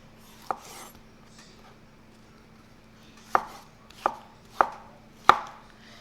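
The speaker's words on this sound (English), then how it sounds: "I'm going to cut up a tomato." Knife chopping a tomato on a board, one early cut then four crisp, evenly spaced knocks close by in a quiet kitchen.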